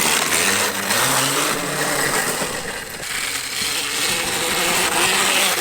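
A Husqvarna EE 5 electric dirt bike ridden on grass gives a steady, loud whirring motor drone with a broadband rush, rising and falling slightly as the throttle changes, with no voices.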